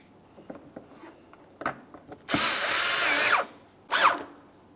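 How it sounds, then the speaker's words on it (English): Power drill driving wheel well screws into the front bumper cover of a 2011–2018 Volkswagen Jetta, two close whirring bursts, one about a second long and a shorter one, between small clicks and handling noises. "Let's put in our wheel well screws, making their way all the way down the line here."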